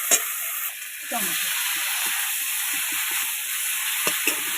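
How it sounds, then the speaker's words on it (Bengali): Dry red chillies and whole cumin tempering in hot oil, a dense steady sizzle and hiss close up, with a few sharp spits and a brief spoken word over it. "শুকনো লঙ্কা, গোটা জিরে ফোড়নে দিয়ে দেবো।"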